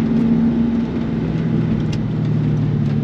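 A 1996 Ford Mustang Cobra engine holds a steady, loud, low drone while driving, with a constant hum and road rumble and no talking.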